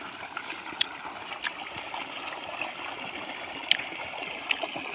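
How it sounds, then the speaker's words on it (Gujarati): Water flows steadily through an irrigation channel in a cumin field outdoors, giving a continuous gentle trickling and gurgling with occasional small splashes, fairly close. "જો આ ધોરિયામાં પાણી હાલે રહ્યું"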